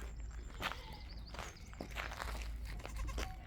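Several short, high bleats from a young goat ring out over steady outdoor background noise, with a few light footsteps.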